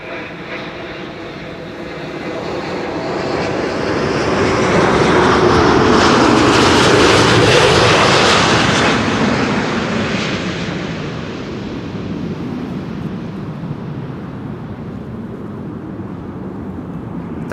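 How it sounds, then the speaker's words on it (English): A Delta Air Lines Airbus A330neo widebody landing at Amsterdam Schiphol from Minneapolis, its jet roar swelling as it passes close overhead, peaking midway, then fading into a lingering rumble. "this is Delta Airlines Flight 162, arriving from Minneapolis, Minnesota"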